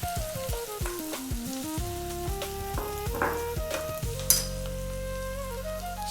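Diced onions and carrots sizzle and crackle steadily in a pan on high heat, with intermittent scraping and clinks of a utensil stirring, plus a sharp knock near the end.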